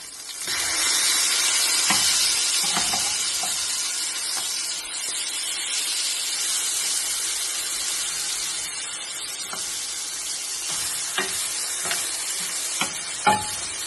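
Fish sizzles steadily in a frying pan, a loud, dense hiss that runs throughout, with occasional clinks and scrapes near the end as the pieces are turned.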